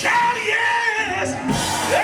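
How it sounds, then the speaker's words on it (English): A church congregation yells and whoops together in a sustained, loud burst of overlapping voices, with the crowd's shouting swelling and echoing in the sanctuary. "Shout yes!"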